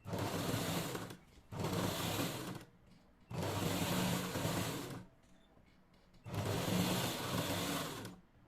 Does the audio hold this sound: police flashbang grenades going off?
no